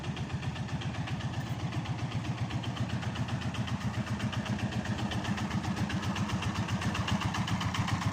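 Motorcycle engine idling steadily, a close, even run of low rhythmic pulses that stays constant for the whole stretch with no voices.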